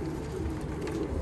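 Pigeon cooing on a rooftop: a steady low, murmuring coo carries throughout at moderate level, with no voices over it.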